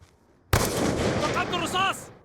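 A gunshot in the video game Black Ops 2, one sharp loud burst of gunfire followed by a sustained roar of game effects that fades out after about two seconds.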